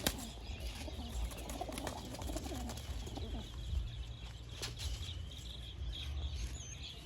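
Pigeons coo steadily at close range with occasional wing flaps, a continuous low cooing chorus from a flock kept in a loft, no voices present.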